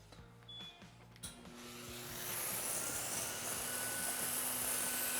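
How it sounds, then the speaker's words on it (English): A steam cleaner's vacuum motor, used on a mattress, starts up and builds into a loud, steady whirring hiss after a few soft mechanical clicks. "simply just turn the vacuum on and pull the trigger for the steam"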